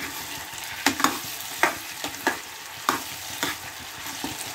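A carrot and peas curry cooks in a pan, giving a soft, continuous simmering hiss broken by a few distinct spoon scrapes and light knocks at irregular intervals, no talking.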